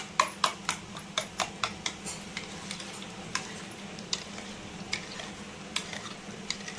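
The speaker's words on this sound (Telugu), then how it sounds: "2 స్పూన్లు వేసుకొని బాగా మిక్స్ చేసుకుందాం" A spoon stirs milk powder into carrot halwa in a pan, making a steady run of rhythmic scraping ticks against the metal over a low, constant sizzle.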